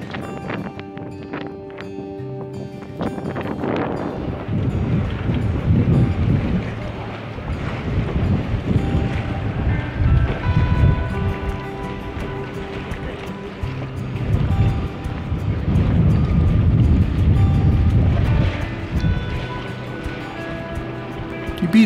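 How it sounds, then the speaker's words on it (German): Wind picks up over a harbour where a boat is moored, gusting and buffeting in swelling waves of rushing noise with creaks and knocks, loud and close, with brief talk. "Es briest und briest immer mehr."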